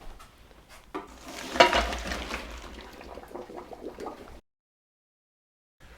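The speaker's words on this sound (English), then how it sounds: "we're going to take them off the heat and drain them in the colander" Boiled potatoes tipped from a pot into a colander for a Swiss potato salad, giving a few seconds of splashing, pouring water and clattering pot, then silence.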